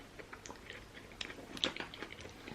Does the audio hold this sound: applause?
no